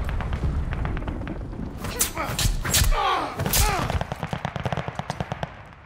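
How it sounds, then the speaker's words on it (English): Glide bomb impact in a Call of Duty: Vanguard team deathmatch, heavy thuds and booms mixed with rapid gunfire bursts, ending in a fast run of sharp repeated shots, with game voice callouts over the top. "Enemy glide bomb incoming."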